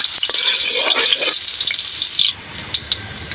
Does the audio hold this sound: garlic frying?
yes